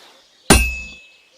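A single hammer blow on a sword laid across an anvil at a medieval forge in Kingdom Come: Deliverance II, one bright, close metallic clang with a ringing tail that fades over half a second.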